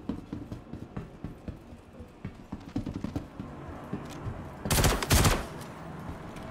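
A Gallant energy rifle fires in the game Star Citizen: scattered single shots over a busy background, then a loud cluster of rapid close shots near the end.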